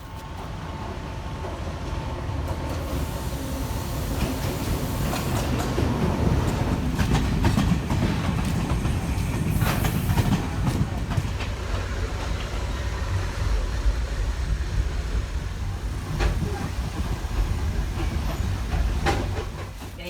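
A passenger train in Sri Lanka rides along the rails with a loud, continuous rumble from close by, punctuated by irregular clanks, rattles and squeals from the carriages.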